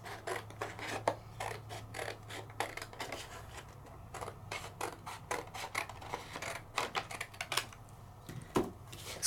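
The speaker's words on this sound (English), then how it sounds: "let me cut off a piece as if I was going to make it a mat" Scissors cutting a piece of baby wipe for a craft mat, a series of close, crisp snipping and rustling clicks in an uneven rhythm, fairly quiet with no talk.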